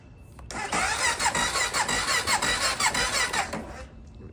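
An El Chapo Funduro dirt bike that has sat dead is cranked repeatedly, its starter whirring and churning in a steady rhythmic loop for about three seconds without catching, close and fairly loud, then it stops.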